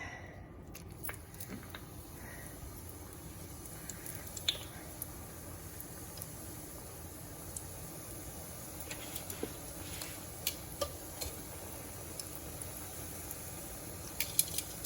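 Food is frying in a pan with a steady, faint, continuous sizzle. Scattered small pops and crackles rise above it, and no one speaks.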